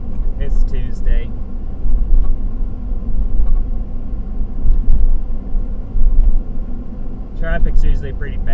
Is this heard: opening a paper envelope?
no